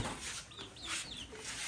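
Chickens clucking at a farmyard with chicks nearby, a few short rising calls over steady background noise, fairly faint and close.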